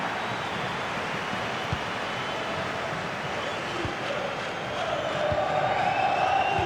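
Steady stadium crowd murmur in the EA FC 26 football video game, a Champions League match between SL Benfica and SSC Napoli, a broad continuous roar that swells slightly toward the end, with a few soft thumps.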